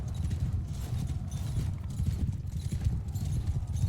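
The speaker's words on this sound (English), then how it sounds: "Look at all their horses as well." Horses gallop across an open battlefield in Mount & Blade II: Bannerlord, a dense, continuous rumble of many hooves pounding close by with no pauses.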